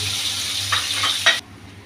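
Fish lightly frying in a pan gives a steady, close sizzle with a few stirring scrapes, then cuts off abruptly after about a second and a half.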